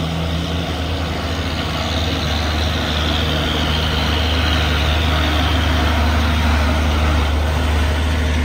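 A Hino truck engine labours up a steep hill, a loud, constant low diesel drone that holds steady throughout with no voices.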